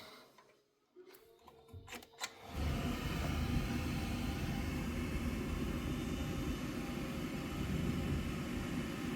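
An oil boiler burner fires up after a quiet stretch with a few clicks, then settles into a loud, steady roaring rumble that continues to the end.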